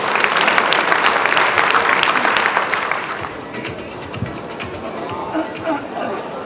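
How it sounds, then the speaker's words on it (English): A large audience at a real estate awards ceremony applauds two people inducted as Fellows, a dense, loud round of clapping that holds strong for about three seconds, then thins to a softer, scattered patter with faint murmurs. "Another big round of applause for them, please."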